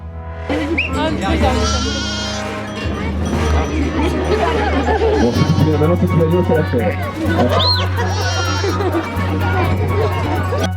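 Goats bleat repeatedly at a farm demonstration of hand milking cows and goats, loud close calls over a busy background of crowd chatter and a steady low hum.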